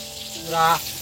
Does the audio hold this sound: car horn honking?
no